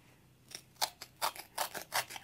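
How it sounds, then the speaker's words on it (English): Scissors snipping through material while testing a viral household life hack, about six quick crisp cuts in an uneven rhythm, close and clear with no talk. "So now we're going to cut it."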